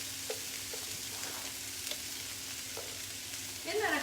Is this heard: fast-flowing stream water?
no